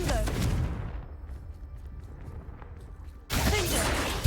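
The Confringo spell cast in Hogwarts Legacy, heard as a loud fiery blast that fades into a rumbling tail, followed by a second burst near the end, with a voice present.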